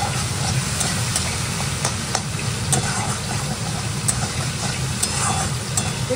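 Spice paste of cumin, chilli and turmeric powders with salt, stir-fried in a home kitchen pan, giving a steady dense sizzle with scraping stir strokes, close and continuous throughout with no talking.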